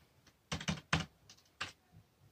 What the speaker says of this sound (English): It is pretty good for typing.